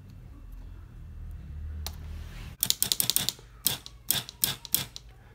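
A homemade Morse telegraph, its key wired to a motor and coil, clacks out quick bursts of sharp mechanical clicks after a low hum, with irregular gaps between groups of dots and dashes.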